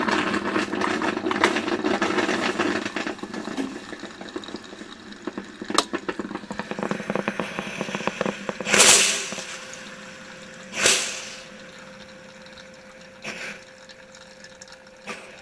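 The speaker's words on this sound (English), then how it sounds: "I just love that puff of steam at the end like that." A machine hisses and gurgles as it drains, then short sharp bursts of steam puff out near the end, followed by quieter hissing.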